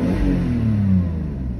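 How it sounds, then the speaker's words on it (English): A car engine, freshly repaired after having no compression, revs up and holds a rising drone before easing down slightly, close and loud with no talking. "you might think I'm being brutal revving it like that"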